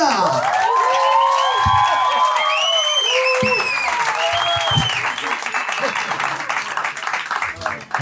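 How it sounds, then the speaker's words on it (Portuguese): Loud, sustained applause from a large stand-up comedy audience, with cheering and whoops mixed into the clapping throughout. "Muitos aplausos pra Nando Viana."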